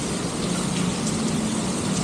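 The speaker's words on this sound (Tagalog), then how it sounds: "Malakas yung ulan." Heavy rain pours down outside a condo, a loud, unbroken wash of noise with no gaps or voices.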